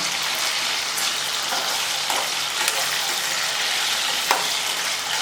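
Diced potatoes, cut into square cubes, fry in oil for a Gujarati potato curry, giving a steady, close broadband sizzle with occasional stirring clicks and no talking.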